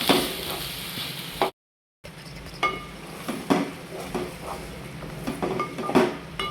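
Stuffed eggplants in masala curry frying over a low flame in a pan, with soft sizzling under repeated clinks and scrapes of a spoon stirring, briefly cut to silence partway through.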